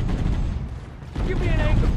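Battle noise from Halo: Combat Evolved Anniversary, a dense rumbling mix of gunfire and explosions, with shouted voices over the din.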